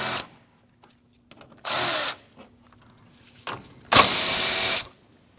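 Power drill or impact driver taking out 10mm front bumper bolts on a 2014-2023 Jeep Cherokee during headlight replacement, with two loud bursts of whirring a couple of seconds apart and brief quiet handling noises between them.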